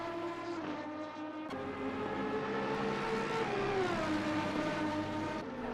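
GT3 race cars at the Brands Hatch circuit roar steadily with a sustained engine drone and shifting pitch, loud and continuous throughout, with no talk over it.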